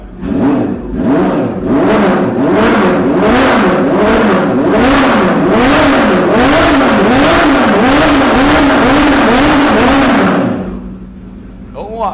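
A car engine is revved repeatedly as the throttle is blipped, a loud close rhythmic rise and fall of about a dozen revs over ten seconds, then settling to a quieter idle.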